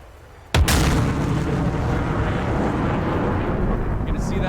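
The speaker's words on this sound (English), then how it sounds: "No, the missile detonated. We can hear it hit right off camera." A missile detonates in a flight combat game with a sudden, loud, sharp blast, followed by a sustained, heavy rumbling roar that fills the rest of the moment.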